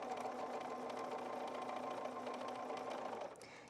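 A sewing machine runs steadily for about three seconds, edge stitching outdoor cushion fabric with an edge stitching foot, a dense continuous mechanical whir that stops abruptly near the end.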